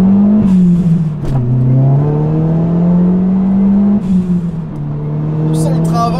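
A Ford Focus RS Mk1 engine revs up loudly from close by in first gear, its drone rising in pitch, dropping briefly at a gear change, then climbing again.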